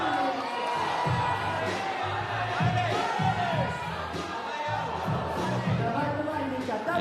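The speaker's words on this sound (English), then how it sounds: "Let's just listen to the crowd as he climbs" A crowd at the Dock Masters climbing competition finals cheering for a climber, a sustained mix of shouts, whoops and encouragement at steady volume.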